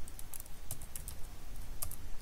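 Short run of keyboard key clicks as a password is typed on a computer keyboard, crisp irregular taps close up over quiet room noise.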